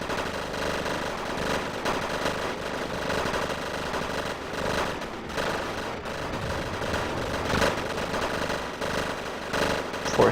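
Missile and gun shots fire repeatedly in the Wargame AirLand Battle strategy game, a dense, continuous rattle of bursts under steady battle noise with no talking.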